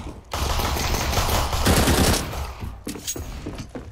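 Rapid automatic gunfire in the video game Counter-Strike, heard as loud sustained bursts with a short gap and a few trailing shots, no talking over it.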